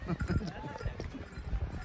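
Horses clop along a crowded trail at Pahalgam, their hoof beats coming quickly and irregularly under near, continuous talk.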